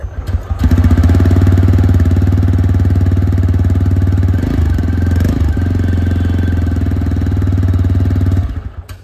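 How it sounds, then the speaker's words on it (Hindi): A 2024 TVS Raider 125cc motorcycle idles with a steady, deep, thumpy exhaust note, loud and close, with a brief rev blip partway through before it cuts off. "तो अब आपको सुनाते हैं इसका एग्जॉस्ट"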